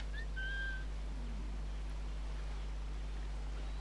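Game character whistling in Assassin's Creed IV: Black Flag, a short two-note whistle over low steady ship and sea ambience, fairly quiet and brief near the start.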